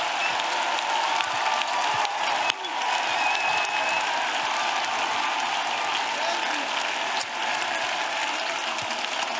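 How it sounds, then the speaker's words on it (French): A church congregation at a prayer gathering gives sustained clapping as an offering to Jesus, a dense, even wash of applause from a large crowd, steady from start to finish. "Clap offering to Jesus."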